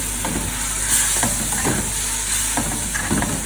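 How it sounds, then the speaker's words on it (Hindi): Beef chunks sizzle and hiss in a hot karahi while being stirred, with repeated scraping stirs breaking through a steady loud frying sizzle. "ये हमारा इसमें गोश्त ऐड हो गया और अब हम इसको मिक्स करेंगे"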